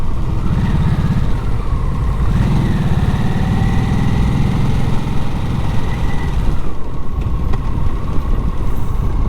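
A 2024 Harley Davidson Nightster ridden in second gear, its engine a loud, steady drone with wind rush throughout, pitch shifting slightly midway, no speech.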